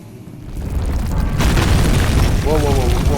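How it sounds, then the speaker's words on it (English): A deep rumbling boom swells and holds as a building caves in within Amnesia: The Dark Descent, a heavy sustained roar of collapse with a voice briefly heard near the end. "Whole place is caving in."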